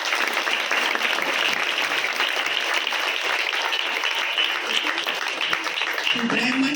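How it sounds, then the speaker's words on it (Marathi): A temple gathering of women at the Gadre Mahalakshmi Mandir breaking into loud, sustained applause, a dense wash of clapping that continues steadily throughout, with a voice emerging near the end. "त्या सर्वांसाठी एक जोरात टाळ्या वाजवा"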